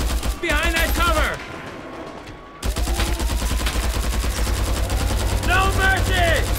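Sniper and rifle gunfire in Mercenaries 2: World in Flames, loud rapid shot volleys with a sudden drop to near-quiet midway before firing resumes, while voices shout over the shooting.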